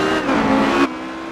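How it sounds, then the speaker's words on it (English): A sports car engine screams at full throttle in a sim racing game at Phillip Island, a loud, close, steady high-pitched howl that cuts off abruptly near the end. "Beckett really pushing the car. You can see him start to squirm on the gas."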